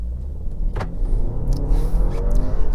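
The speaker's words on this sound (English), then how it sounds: "Good pull from the engine," A 2023 BMW X1 xDrive28i in sport mode accelerates during a handling test, its engine a close, rising hum and rumble with tire and road noise layered over it.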